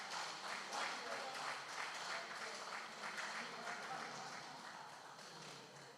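An audience at a Federal Polytechnic governing council visit gives a bigger round of applause, a soft, fairly distant, continuous patter of clapping that fades slightly toward the end.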